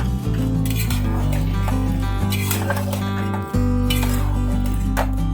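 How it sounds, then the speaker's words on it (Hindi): A spoon clinks and scrapes against a pan while fried soya balls are stirred into tomato sauce, with steady metallic taps over soft background music and no talking. "अब इसमें हम बॉल्स डालेंगे जो हमने फ्राई किए हैं। इसको मिक्स कर लेंगे।"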